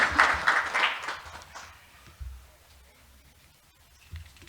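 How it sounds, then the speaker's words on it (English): Audience applause for a speaker at a climate change research launch event, a short burst of clapping in the first two seconds that quickly fades, leaving a quiet room with a few faint thumps. "we can give him another round of applause"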